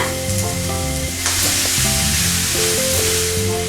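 Peas and potatoes dropped into a hot pan of oil for aloo matar sabji, sizzling loudly and steadily throughout with a sudden rise in hiss as they hit, under a backdrop of music.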